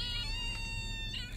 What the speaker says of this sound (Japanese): そう、いっぱいあっちこっち猫おるんや。